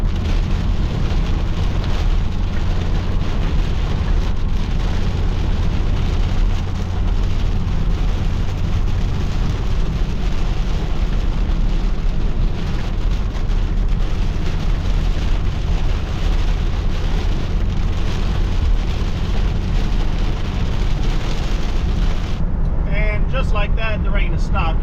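Heavy rain pelting a car while driving through a storm, a loud continuous roar of rain and road noise that stays steady throughout, with a brief change near the end.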